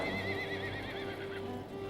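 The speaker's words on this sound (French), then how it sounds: "6 forts chevaux tiraient un coche" Six strong horses hauling a coach up a sandy, uneven uphill track whinny with a wavering, drawn-out neigh over a dense, steady background.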